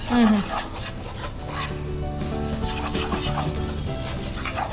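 Maida-coated prawns sizzle on a low flame in a pan while being stirred, a close, steady frying crackle with scraping strokes and no talking.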